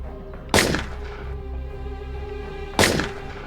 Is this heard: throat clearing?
no